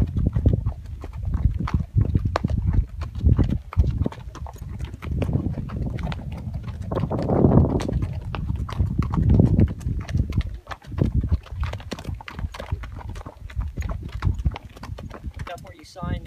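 Horse hooves clip-clop in a steady rhythm on hard ground, close by, with people talking now and then over the hoofbeats.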